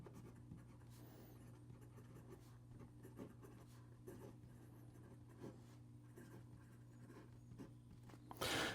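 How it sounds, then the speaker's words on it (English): A fountain pen with a titanium nib scratching and scraping across paper while writing, a soft, steady close-up scritch with small rhythmic strokes and a low background hum, ending in a brief louder rustle. "So here we go with the rest of the writing sample."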